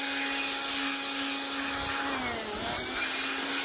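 An air blower drives a strong, steady rushing blast to dry the washed, sprayed parts of a window-type air conditioner during deep cleaning. The blast holds near and constant, its pitch dipping briefly midway.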